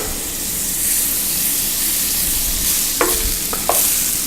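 Halibut with a pat of butter sizzles steadily in a hot pan, a continuous close hiss with a couple of brief utensil taps near the end.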